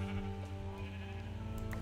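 A Minecraft sheep bleats in a short, close wavering call over a low steady hum, with no speech.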